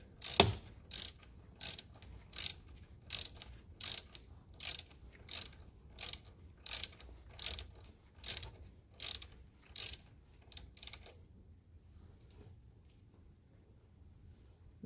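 A ratchet tightens the ignition coil bolts on an Audi S3, giving about a dozen crisp, evenly spaced bursts of rapid clicking close to the microphone, then falling quiet.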